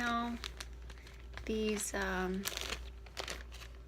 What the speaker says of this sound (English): plastic bags, resealable or whatever